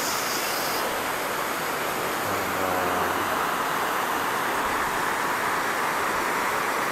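Broad steady rushing of a waterfall at Nakano Momijiyama fills the scene evenly, with a faint low mechanical hum briefly beneath it.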